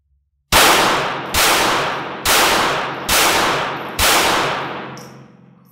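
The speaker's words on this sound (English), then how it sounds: "we're just going to pick up the tempo of our shooting a little bit" Five loud, close gunshots are fired at a steady pace during a beginner shooting class at an outdoor range, each crack decaying with echo before the next, and no one talks.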